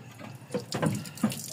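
Water pours into the cooling system of an Isuzu 4HJ1 engine, a splashing, gurgling flow in short surges close by, with no talk over it.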